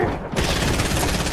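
Rapid, continuous SMG gunfire in a video game, loud and dense from start to end, firing a steady stream of shots with no pauses.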